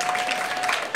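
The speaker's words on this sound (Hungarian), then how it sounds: "egy nagy tapsot szeretnék kérni Vörös Sándornak" Audience applause at a slam poetry night in Miskolc, a dense, steady wash of clapping from a crowd, close and even for a brief moment.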